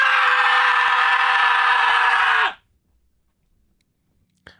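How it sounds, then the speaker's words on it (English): A raw, unedited scream lasts about two and a half seconds, loud and sustained at a steady pitch, then cuts off abruptly into near silence, followed by a brief faint click. "Here's the unedited scream. Here's the raw scream."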